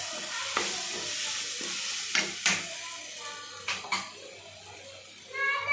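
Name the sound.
tomatoes sautéing in a pan for goat intestine gravy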